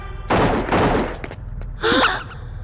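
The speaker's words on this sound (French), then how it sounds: "Les détonations viennent de ce côté-là." In the animated series Totally Spies, two loud bursts of crackling detonations, like a fusillade of gunfire or fireworks, ring out close by, separated by a short quieter gap with faint movement.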